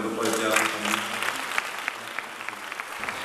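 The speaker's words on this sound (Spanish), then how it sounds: "Así que un aplauso para el Grupo de Teatro también." Applause for an amateur theatre group marking thirty years, at a cultural campaign presentation in Piornal, Cáceres: a hall audience clapping steadily and fairly close, with a few sharper individual claps standing out, over a faint low murmur of voices.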